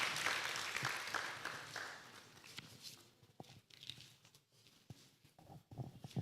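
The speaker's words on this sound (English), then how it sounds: "Another hand clap for Professor Muhwezi" An audience at a career expo applauds Professor Muhwezi with a dense burst of clapping that fades over a few seconds into scattered claps and shuffling.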